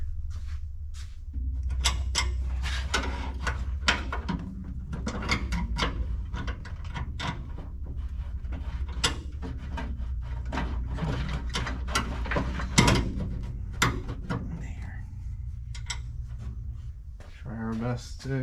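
Ratcheting nut driver working on new brake parts for a 1972 Chevrolet C10 pickup, a steady run of quick close clicks and rattles with some handling noise, continuing through most of the stretch.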